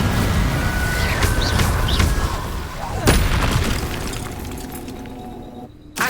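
An Incendio fire spell is cast in Hogwarts Legacy, giving a few booming, whooshing bursts over busy game noise while voices talk throughout.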